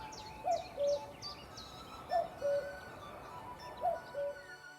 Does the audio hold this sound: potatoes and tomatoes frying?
no